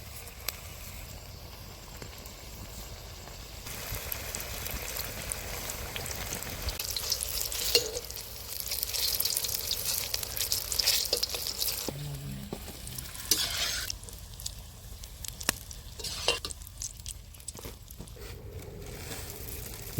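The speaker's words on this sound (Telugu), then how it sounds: "నూనె వేడెక్కింది, ఇక మిర్చీలు వేసుకుందాం." Green chilies stuffed with a tamarind, salt and turmeric masala frying in hot oil for Rayalaseema-style bajji: a steady, fairly faint crackling sizzle with occasional louder pops and light utensil clicks.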